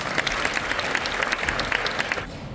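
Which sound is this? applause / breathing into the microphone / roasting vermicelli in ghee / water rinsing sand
applause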